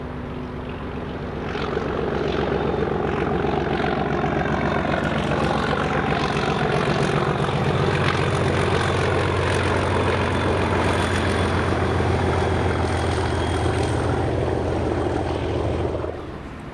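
Class 37 diesel locomotive 37418 hauling a charter train on the Carlisle to Wemyss Bay line, a loud throbbing engine roar that swells in and holds steady for over ten seconds before cutting off, with no talking.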